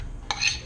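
A utensil stirs pancake batter ingredients in a bowl, giving one sharp clink against the side amid quiet scraping.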